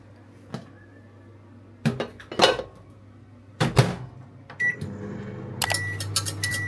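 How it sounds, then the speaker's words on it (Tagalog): A microwave oven runs with a steady low hum while brown sugar melts inside, with a few sharp clicks and clatters from around the kitchen and a faint beep near the end. "So, lagyan na natin siya sa microwave."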